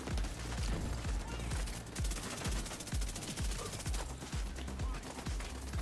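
Sustained automatic turret gunfire in The Division 2, loud, rapid repeated bursts with sharp low thumps, continuous across the whole stretch with no talk.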